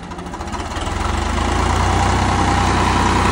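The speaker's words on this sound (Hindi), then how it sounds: "किर्लोस्कर इंजन ये देखो" A Kirloskar diesel engine runs steadily in a field during night pipeline work, a loud continuous low throbbing hum that builds slightly in the first second and then holds at an even level, with no speech.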